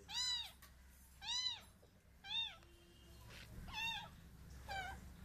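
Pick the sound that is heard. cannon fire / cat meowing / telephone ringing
cat meowing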